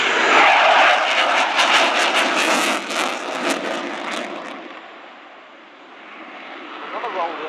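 An RAF Eurofighter Typhoon jet roars loud and close during a flying display at an airshow. The roar swells and then fades as the jet passes, and a voice talks over it.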